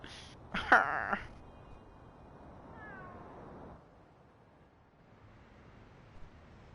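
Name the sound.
cat meowing in video game Spider-Man: Miles Morales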